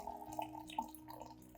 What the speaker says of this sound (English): pour about 500 milliliters of hot water into the container